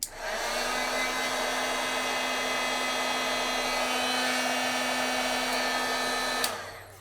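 A heat tool blowing hot air over embossing foil on a stamped craft piece, a loud, steady whooshing hum held for about six seconds before clicking off.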